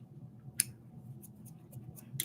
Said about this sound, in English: Just dropped my scissors on the floor